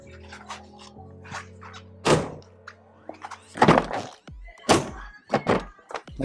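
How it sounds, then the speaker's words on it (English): Doors on a 2022 Jeep Wagoneer Series 3 shutting with several solid, heavy thunks spaced a second or so apart, close and distinct against a quiet interior. "Like how the doors sound when you close them."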